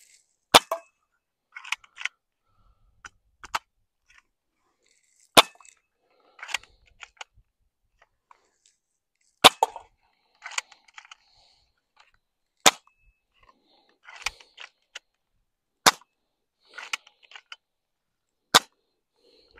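A Crosman PSM45 air pistol firing several sharp, loud cracking shots spaced a few seconds apart, each followed by quieter clicks and handling noises of the gun between shots.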